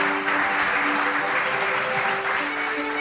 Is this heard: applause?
yes